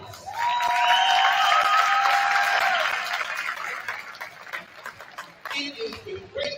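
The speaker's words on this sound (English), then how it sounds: "Let's give them a big round of applause." At a high school volleyball senior night, the gym crowd claps for the senior players, with cheers and whistles rising early and then fading into scattered claps and voices.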